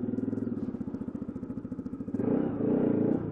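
A 2022 Bajaj Pulsar RS 200 BS6 motorcycle engine thumps with a rapid, even pulse during a ride, loud and close, then swells into a smoother, stronger roar as it accelerates.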